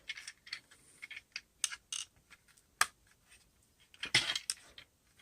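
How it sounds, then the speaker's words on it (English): Plastic Transformers toy pieces being folded and tabbed together give a run of small sharp clicks and snaps, close and crisp, with a cluster of rattling clicks near the end and no talking. "So fold it in. Get that to slide and tab."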